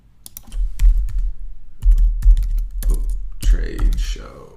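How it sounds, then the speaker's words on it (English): Someone types on a computer keyboard in short, close bursts of clicky keystrokes, with a brief pause between words and a final flurry near the end. "and I'm gonna type in trade show."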